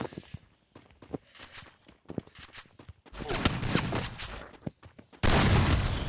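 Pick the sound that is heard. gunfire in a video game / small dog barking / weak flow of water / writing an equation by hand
gunfire in a video game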